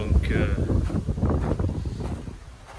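Blustery spring wind in a garden rumbling across the microphone, a low, steady roar with gusty fluctuations over a few seconds.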